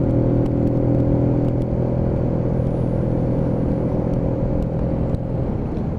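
A Keeway K-Lite 125cc motorcycle engine chugs at low revs while being ridden, a steady low droning hum with faint clatter, close and constant for the whole stretch.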